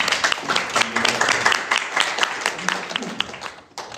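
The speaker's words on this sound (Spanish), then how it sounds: "Un aplauso para mí." An audience applauds to welcome someone to a gathering, a spread of scattered claps over the whole span with a voice speaking in the room over it.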